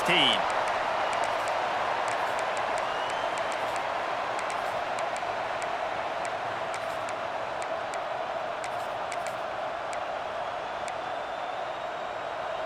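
Stadium crowd roar from a college football video game, South Carolina against Oklahoma, a steady broad wash of cheering that holds loud throughout, with faint bursts of game sounds on top.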